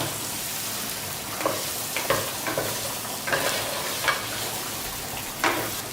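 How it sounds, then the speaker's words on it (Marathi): Spiced potatoes are stirred and fried in ghee: a constant close sizzle punctuated by several light scraping stirs at irregular intervals. "ह्याला व्यवस्थित ह्या तुपामध्ये परतून घ्यायचे आपल्याला"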